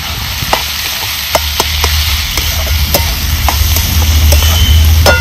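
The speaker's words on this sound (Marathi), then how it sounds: "चांगला आता आपला ह्यो कांदा भाजलेला आहे।" Onion sizzles steadily as it fries in a pan, with a utensil scraping and stirring in repeated sharp clicks over the continuous hiss, loud and close.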